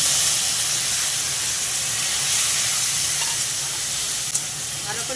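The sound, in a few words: onion paste, ginger garlic paste and tomato frying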